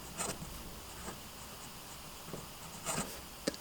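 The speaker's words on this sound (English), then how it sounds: "welcome to the writing sample for the Wingsung" A Wing Sung 6359 fountain pen with an extra fine 0.38 mm nib and black ink writes on paper, giving soft scratchy strokes in short separated bursts that stay quiet and close, with no voices.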